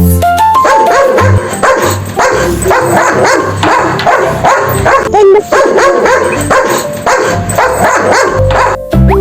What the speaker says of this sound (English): a dog. Dog says,